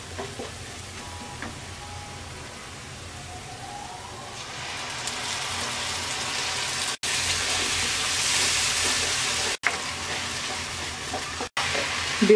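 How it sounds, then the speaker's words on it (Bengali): Tomato puree tipped into a fried spice paste for a spicy Bengali baby potato curry (aloo dum) sets off a loud, steady sizzle that swells midway and keeps hissing, broken by a few brief gaps, with no talk. "মশলাটা ভেজে নেওয়ার পর এবার আমরা এর মধ্যে দিয়ে দিচ্ছি টমেটো পিউরি"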